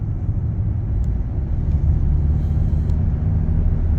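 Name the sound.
Kia Telluride hybrid SUV accelerating up a mountain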